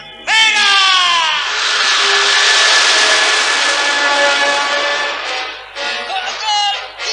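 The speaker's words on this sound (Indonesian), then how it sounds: "Pesawat, siap take off." Airplane takeoff effect from an Indonesian audio drama on cassette: a loud, sustained roaring whine with rising tones that swells, holds, then dips before a second shorter burst, with no talking.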